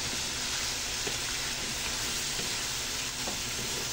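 Cauliflower and broccoli frying in a pan for lumpiang sariwa, giving a steady, dense sizzle with faint stirring clicks, continuous and close with no voices.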